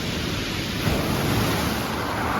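Ocean waves breaking on a beach in Lefkada, Greece, heard as a steady, loud broadband wash of surf with a brief swell of impact near the middle, continuous and without voices.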